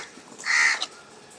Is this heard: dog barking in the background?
no